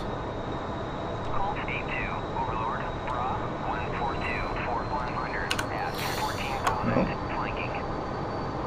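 A steady jet-engine whine and rumble from an F-14 Tomcat taxiing in a flight combat game fills the background at constant level, with a player talking over it and a few brief higher clicks near the end.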